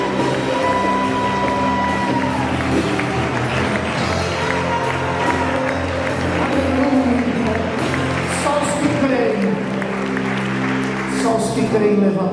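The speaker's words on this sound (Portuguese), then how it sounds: "Pode aplaudir, adora a Deus." A church congregation at a worship gathering applauds continuously, loud and dense, mixed with music, cheering and a preacher's voice over the whole stretch.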